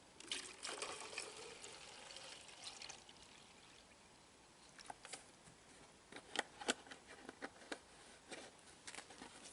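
Water trickling and pouring quietly nearby in the taiga, an irregular stream of soft splashes and drips that grows busier toward the end.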